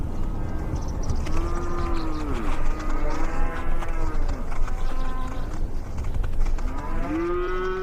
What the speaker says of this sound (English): Browsing the already leafless bushes, the cows continue the work of the goats.